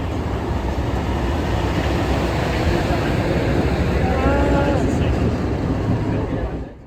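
A passenger train at the Illinois Railway Museum during its Diesel Days event gives a steady, loud rumble of rolling rail cars that holds throughout, with a faint squealing tone in the middle and people talking underneath.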